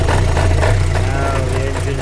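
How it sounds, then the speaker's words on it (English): A Vauxhall Vectra-C with the Z18XER engine idles roughly from a vacuum leak with the cam cover cap off, a loud, close, uneven throbbing drone with a voice talking over it. "now the engine runs really badly due to a leak"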